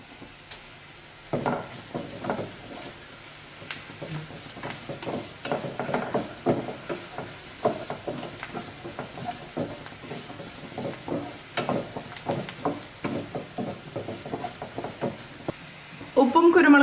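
Vegetables and a spoonful of sugar stir-fry in a hot pan for restaurant-style chicken fried rice, with a soft steady sizzle under frequent scraping and clinking strokes of a spatula, close and busy throughout.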